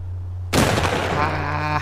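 A single sharp gunshot in The Last of Us Part I, loud and sudden, followed by a ringing decaying tail.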